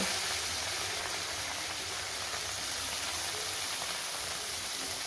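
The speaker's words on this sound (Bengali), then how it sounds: "সর্ষের তেলটা গরম হয়ে এসেছে এবারে এই তেলের মধ্যে আমি মাছগুলোকে দিয়ে দেব" Small fish frying in hot mustard oil, a steady dense sizzle and crackle that holds evenly throughout with no talking.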